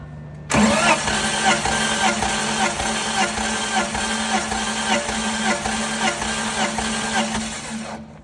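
A BMW car engine cranks steadily on the starter during a compression test, a loud, even rhythmic churning that runs for about eight seconds and then stops abruptly, with no talk over it.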